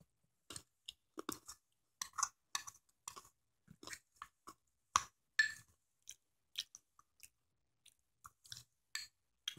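Food being chewed close to the mic during home cooking, with a run of wet, crunchy bites and mouth sounds in irregular bursts separated by short pauses, and no talk.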